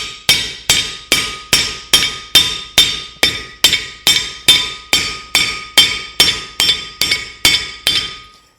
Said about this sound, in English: just the round side of the hammer. We're gonna just bring it in